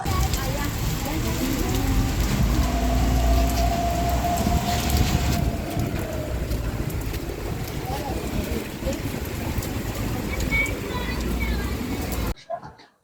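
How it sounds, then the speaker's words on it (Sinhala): Steady rain pours during a Poson festival food-stall gathering in Sri Lanka, a dense, even hiss drumming on surfaces that holds constant for several seconds before cutting off abruptly. "වැස්සකුත් එනවා. දැන්වත් වහිනවා."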